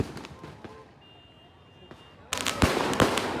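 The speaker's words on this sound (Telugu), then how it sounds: "ఒక జాతరలో ఇన్ని క్రాకర్స్ కష్టం ఫస్ట్ టైం చూస్తున్నాను నిజంగా." Firecrackers burst at a village temple festival (jatara). A quiet stretch gives way to a sudden loud run of dense, crackling bangs.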